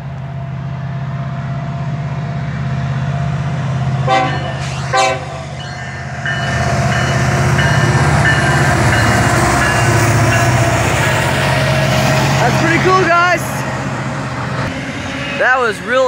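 A Union Pacific mixed freight train rumbles loudly past at close range at a siding in Austin, Texas, while its horn sounds several short blasts, with some voices and road noise mixed in.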